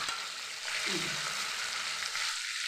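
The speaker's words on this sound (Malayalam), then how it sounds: "ഞാനിവിടെ 4 ഉണ്ട്, അത് 4 ഒറ്റയായിട്ടങ്ങ് വറുത്ത് കാണിക്കുവാണേ." Manthal fish frying in a pan, a soft continuous sizzle at low level with brief scraping as the pieces are turned.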